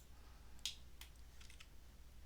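F keys on a computer keyboard pressed to switch between tabs while playing Old School RuneScape, a few quiet, sharp clicks near the microphone with no talking.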